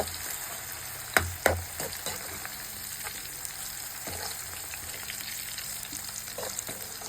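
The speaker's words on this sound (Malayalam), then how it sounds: "ഇതൊന്ന് ജസ്റ്റ് ഒന്ന് വറുത്തിച്ചെടുക്കണം" Onion, curry leaves and coriander powder fry in a pan with a constant soft sizzle, interrupted by two sharp utensil clanks early on and a few lighter stirring knocks later.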